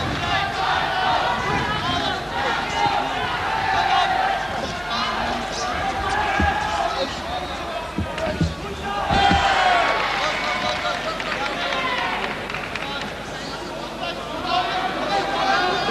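A crowd cheers and chatters steadily throughout a Holland vs Japan kickboxing match, with occasional thuds and shouts rising above the noise.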